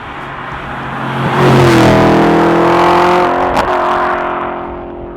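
Audi RS4 B7 with its 4.2L V8, tuned slightly above standard, pulls hard through third gear, the engine note climbing loud and close before a brief shift break and a fading run.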